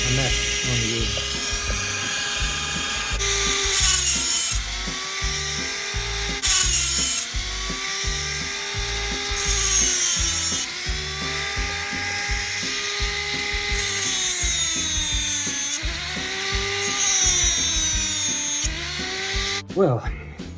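A power tool grinds and sharpens the teeth of a saw chain in steady, close, loud passes with rising and falling pitch as each tooth is worked, continuing for about twenty seconds.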